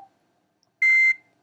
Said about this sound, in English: it will make a beep sound so that you can say, okay, end of activity now